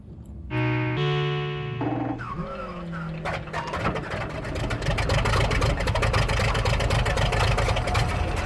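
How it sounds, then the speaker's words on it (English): An engine struggles in the video game Amerzone, with a distorted mechanical drone that rises after a few tonal synth-like notes. It settles into a rough, continuous chugging rumble, loud and close, with no talk over it. "This engine sounds like it's about done."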